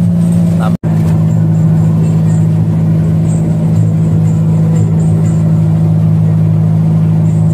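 A jukung boat's outboard motor runs at a steady, loud drone with a constant low hum throughout, briefly cutting out near the start before droning on unchanged.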